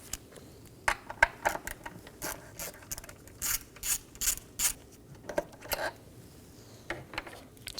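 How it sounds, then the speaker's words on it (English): Ratchet wrench with an 8mm socket backing out a bolt on a 2011 Dodge Durango 5.7L V8 during cooling fan removal, heard as a close series of short clicking bursts in uneven spurts, with no talking. "I'm going to remove this 8mm bolt."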